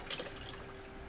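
Hot water pours steadily into the steel tank of an 8-gallon Vevor ultrasonic cleaner, making a continuous, fairly quiet splashing rush with a faint hum beneath it and no voices.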